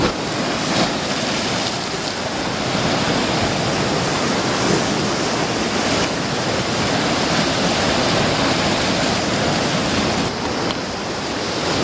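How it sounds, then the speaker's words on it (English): Ocean waves wash up the shore at a beach around sunrise, a loud, constant broadband rush of surf with no clear breaks between waves and no speech. "just had a wave just come up and washed all over my feet"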